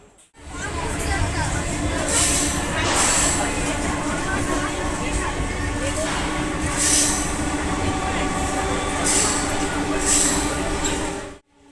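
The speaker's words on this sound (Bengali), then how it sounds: "ট্রেন চলতেও শুরু করে দিয়েছে" A train starting to pull away from a station platform rolls along with a steady rumble and periodic sharp hissing bursts, loud and continuous throughout, with faint talk mixed in.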